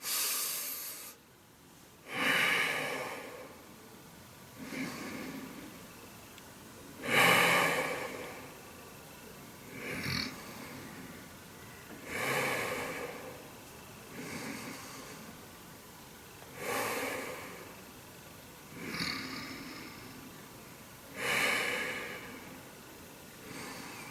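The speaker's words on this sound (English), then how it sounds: "when you're breathing in, notify that you're breathing in. And when you're breathing out, breathe out and notify that you're breathing out" Slow, conscious belly breathing repeats in regular cycles about every five seconds, each a soft airy inhale or exhale swelling and fading close to the microphone, with quiet pauses between and no speech.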